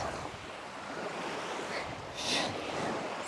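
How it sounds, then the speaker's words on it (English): Wind gusts across a beach, a faint, steady broadband rush with surf-like washing and one brief louder gust late on, and no one speaking. "a little bit windy today."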